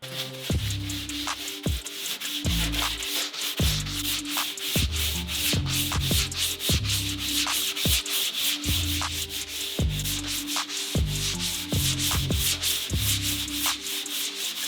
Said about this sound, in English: We're gonna get to the sanding.